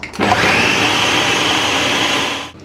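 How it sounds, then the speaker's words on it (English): A food processor whirs steadily as it chops mushrooms finely into a pâté, a loud continuous motor drone that starts abruptly and cuts off after about two and a half seconds. "So I'm going to put the mushrooms into the food processor now."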